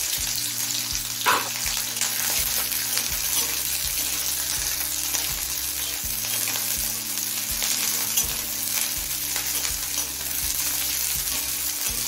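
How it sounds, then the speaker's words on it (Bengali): Large-cut onions and nigella seeds fry in oil in a pan, making a steady close crackling sizzle with occasional stirring scrapes and a low background hum, with no voices. "পেঁয়াজটা মিনিট খানিক ভেজে নিলাম"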